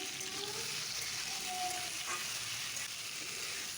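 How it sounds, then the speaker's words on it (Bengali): Hill sweet potatoes fry in mustard oil with turmeric and salt, giving a steady, close sizzle with faint stirring and no talking. "এখন হলুদ আর নুন দিয়ে ভালোভাবে ভেজে নিচ্ছি মিঠে আলুটাকে।"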